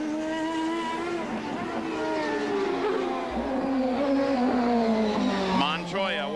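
A 1990s IndyCar race car on the final lap, its loud, high-revving engine note sliding steadily under crowd and broadcast noise, with commentators talking over it.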